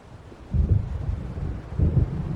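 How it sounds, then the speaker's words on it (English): Low, deep rumbles of thunder from an approaching storm in Alan Wake, rolling in twice as muffled swells over a quiet windy background. "It seems there's a storm coming."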